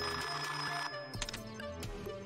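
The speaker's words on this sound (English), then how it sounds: "I heard the phone ring" A telephone bell rings in Team Fortress 2, loud and close, with a rapid ringing burst that breaks briefly and resumes, alone without talk.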